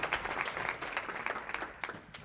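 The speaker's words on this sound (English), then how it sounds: "Give our future college graduates a round of applause." Applause for future college graduates fills a conference keynote hall, a fairly faint and steady patter of many hands clapping that thins toward the end.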